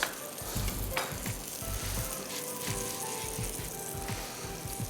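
Fish sizzles and fries steadily in a hot pan, a dense continuous crackle with scattered pops and occasional scrapes of a utensil, close and fairly loud with no talking.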